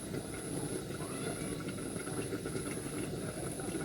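Steady hiss of steam escaping from a freshly opened pot of seasonal Thai mushroom curry, a continuous airy rush with a faint high whine throughout, close and fairly loud.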